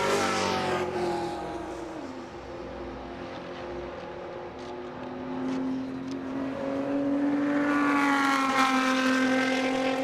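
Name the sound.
race car pushing hard into turn one at Road Atlanta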